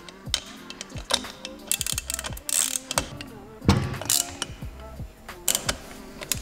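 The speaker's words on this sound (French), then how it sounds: "Bon, on va faire le serrage." Tightening the stator plate on a Honda MXS engine: a series of close metallic ratcheting clicks and light taps from hand tools, irregular and sharp in a quiet workshop.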